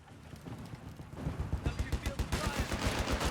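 A .50 cal machine gun rattles in Company of Heroes 3 battle audio, its rapid rhythmic bursts growing loud and steady after a quieter opening, with other game noise in the background.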